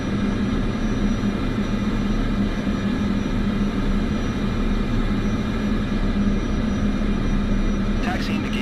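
An airliner in Microsoft Flight Simulator 2024 taxiing to the gate, its engines giving a steady, loud, unchanging drone throughout with no clear speech.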